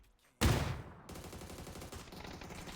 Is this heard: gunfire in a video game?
yes